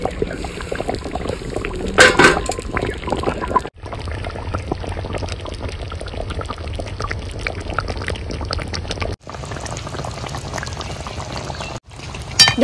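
Ground spice paste with green chillies and crushed whole garam masala poured into a hot pan for a singhi fish and potato curry, a steady bubbling, sizzling pour that stops and restarts in several near, continuous bursts.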